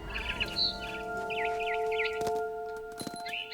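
A barn swallow chirps in the video game What Remains of Edith Finch, a few short, quick twittering bursts over a quiet ambient hum, followed by sharp clicks.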